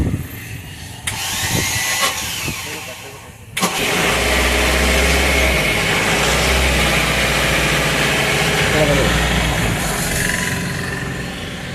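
A Mahindra Bolero 1.7 BS6 pickup with a fault affecting pickup cranks and catches after a brief clatter, then settles into a loud, steady close-up idle with a low diesel rumble and slight surges.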